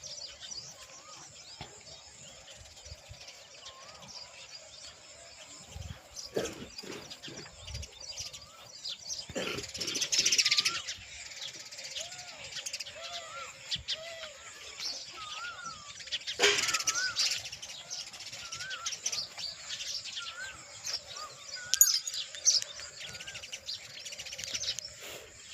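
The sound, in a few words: sparrows chirping near a water trough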